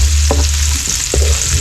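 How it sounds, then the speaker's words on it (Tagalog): Garlic, onion and chili sauté in a pan outdoors, a loud close sizzle with two scraping stirs of a utensil. "gisa-gisa lang tayo ng mga ingredients"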